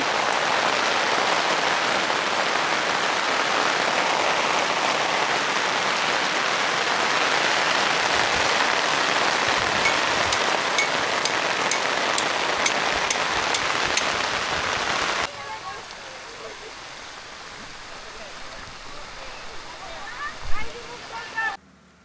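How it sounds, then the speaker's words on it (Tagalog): Heavy rain pours steadily at Camp Payapa campsite during a car camping event, a dense loud hiss that drops to a lighter patter near the end. "Sobrang lakas, guys. Inulan na tayo dito sa Camp Payapa."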